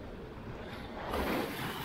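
Raging Atlantic Ocean surf breaks along a coral-rocked beach, a steady broadband roar mixed with wind that swells slightly louder partway through.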